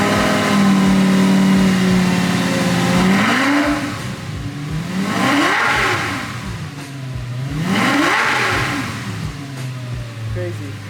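A modified, rebuilt Lamborghini Gallardo idles with a steady drone, then revs up and down three times in rising, high-pitched sweeps, loud and close, while people talk over it.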